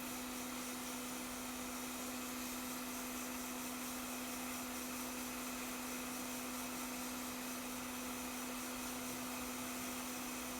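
A hot air rework station blows steadily over a chip on a corroded A1707 MacBook Pro logic board, a continuous close airy hiss with a faint hum, unbroken and alone throughout.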